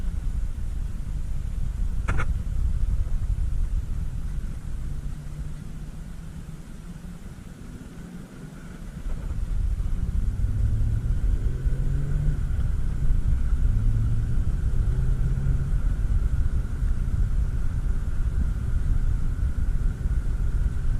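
A Nissan 370Z's engine drones as the car is driven, a steady low rumble with road and cabin noise that dips briefly, then rises again as the engine revs up, with no talking.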